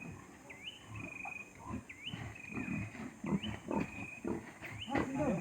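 A sow grunts and snorts repeatedly at close range, rough low noises over a steady outdoor background with high insect chirps.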